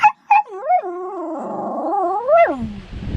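A dog gives two short yips, then a long, wavering, high-pitched whimper that rises and falls like a plaintive howl, close and fairly loud, ending in a rustle.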